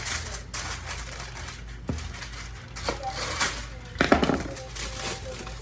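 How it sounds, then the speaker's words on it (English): Aluminum foil is torn and crinkled over a dish of seasoned food on lemon slices, giving several crisp, rustling bursts, the loudest near the end, close by over a low background hum. "I'm going to cover it with foil."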